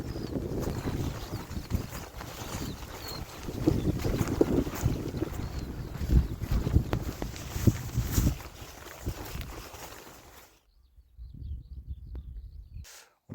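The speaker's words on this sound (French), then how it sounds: "Et en plus, il y a le vent de face." Headwind on an outdoor hike roars and buffets the microphone as steady, gusty rushing noise for about ten seconds, then stops abruptly into near silence.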